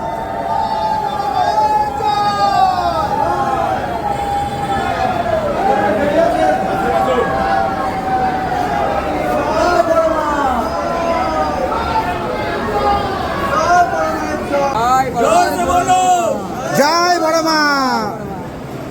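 Crowd of devotees packed at the Boro Maa temple in Naihati, a loud, continuous babble of many voices with shouts and chanting up close, layered with distant vehicle noise and horns.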